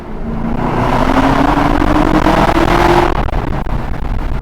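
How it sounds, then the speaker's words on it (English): A Chevrolet Camaro ZL1's V8 engine revs hard and loud with a deep, rising exhaust roar that holds for about three seconds, then cuts off sharply and idles down. "enjoying the beautiful sound of this V8"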